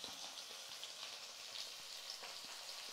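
Vegetables, brinjal among them, sauté in a hot pan, giving a steady, faint, even sizzle with small crackles throughout and no talk.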